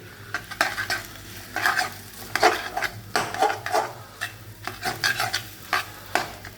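Food being stirred in a frying pan with sauce and vegetables, rhythmic scraping and clattering of a spoon against the pan over a soft sizzle, close and steady.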